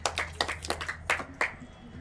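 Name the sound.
audience clapping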